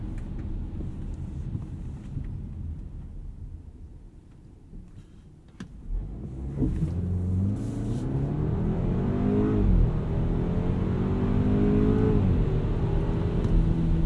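A 2018 BMW X3 xDrive30i with an 8-speed automatic accelerating hard in sport mode, its engine rising from a quiet idle into a loud climbing whine. Quick gear shifts briefly drop the pitch before it climbs again.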